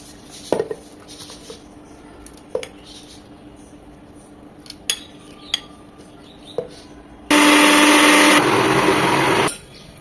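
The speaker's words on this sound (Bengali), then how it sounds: "এখন এই সব কিছু আমি ব্লেন্ড করে নেব।" Blender whirring through boiled cabbage and fried shrimp for bhorta, a loud steady burst of roughly two seconds following scattered light clinks of utensils in a kitchen.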